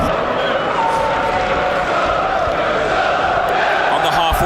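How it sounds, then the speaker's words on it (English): A packed football stadium crowd at a Newcastle United versus Brighton & Hove Albion Premier League match keeps up a loud, continuous roar and chanting, a dense unbroken wall of noise. "I think the players need this extra noise, and the crowd are doing their bit"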